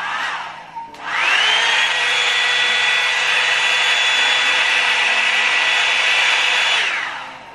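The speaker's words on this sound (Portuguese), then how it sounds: "Eu vou ligar aqui pra vocês todas as velocidades para vocês escutarem o ruído. A primeira velocidade, o ruído é assim." A Britânia Turmalina hot-air brush dryer switches on at its first speed and runs as a steady, loud whirring blow for several seconds before cutting off, close and alone.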